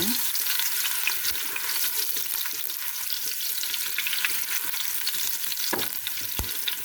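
Garlic and ingredients for bottle gourd with sardines are sautéed in a hot pan, giving a loud, continuous sizzle close up with a few sharp utensil clanks against the pan, and no talk.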